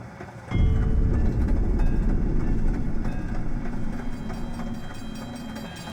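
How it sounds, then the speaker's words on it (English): A train rolls on rails in the video game Ultrakill: a loud, steady rumbling and clattering roar kicks in abruptly after a brief moment, with rhythmic clickety-clack continuing throughout and easing slightly toward the end. "Going after rails on a crazy train."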